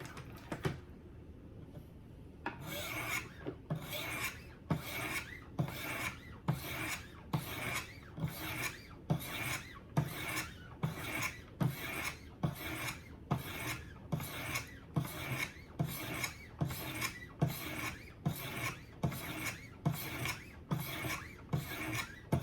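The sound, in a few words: knife sharpening on Wicked Edge Go 200 grit orange stone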